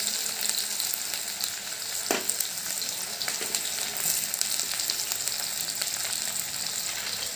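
Onion sizzles in hot oil with cumin in a pan, a steady close frying hiss with faint crackles and one brief stir clink, running on without talk.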